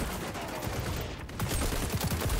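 Rapid AK-47 fire in the shooter game XDefiant, a dense stream of close shots with bursts of incoming gunfire mixed in, loud throughout and more sharply punctuated near the end.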